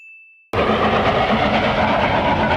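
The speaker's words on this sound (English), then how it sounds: "he's challenged the sea train every day since Tom was taken" A sea train from the One Piece anime rolls past in a loud, steady rumble with dense mechanical rattling. It bursts in suddenly after a brief tone and keeps going without a break.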